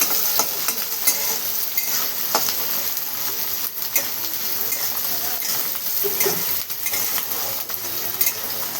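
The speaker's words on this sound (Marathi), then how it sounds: "आपण कांदा टमाटर छान परतून घेऊया" Onion and tomato sautéing in a pan for a Maharashtrian bitter gourd chutney, with a continuous bright sizzle and repeated scraping and clinking of a spoon stirring against the pan.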